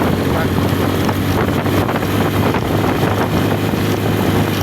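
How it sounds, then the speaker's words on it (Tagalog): A loud boat motor drones steadily and roughly throughout as the boat climbs uphill over water, mixed with wind buffeting and engine rumble, no clear pauses. "Narinig naman, rotok talaga yung motor eh."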